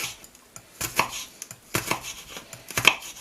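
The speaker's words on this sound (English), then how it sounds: "So we'll just chop the chillies up." A knife chops chilli on a cutting board: crisp, close, irregular taps, about eight distinct chops in a loose rhythm, with no talk.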